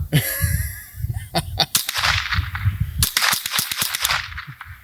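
Sharp rifle shots from a Remington Nylon 66 at an outdoor range, several cracks spaced irregularly and loud up close, mixed with mechanical clicks and low rumbling handling noise.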